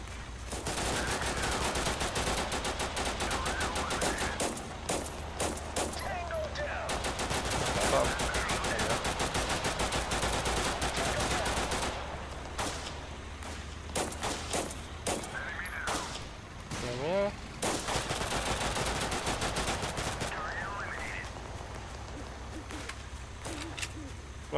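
AK rifle fire sounds in the video game Total Conflict Resistance as repeated rapid bursts of automatic shots with brief pauses between volleys, in a busy battle soundscape.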